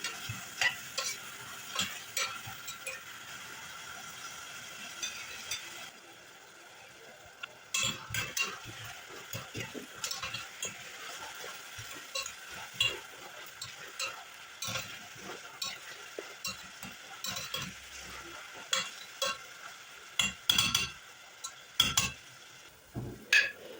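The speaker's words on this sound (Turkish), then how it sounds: "Ardından soğanlarımız pembeleşinceye dek güzel bir şekilde kavuralım." Chopped onions sautéing in olive oil in a pot, with a soft steady sizzle and repeated scraping, clinking stirs of a spoon against the pot, fairly quiet and close.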